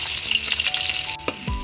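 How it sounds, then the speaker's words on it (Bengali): Two cups of chopped onions fry in oil in a pan, with bay leaf, cardamom, cloves and cinnamon already tempered for chicken rezala; a loud, close, continuous sizzle runs throughout, with a brief scrape of stirring near the end. "এবার আমি পেঁয়াজগুলোকে হালকা করে ভেজে নিব।"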